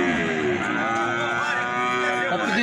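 A cow at a cattle market in Buíque, Pernambuco, Brazil moos in one long, loud, drawn-out low call close by, with faint background noise.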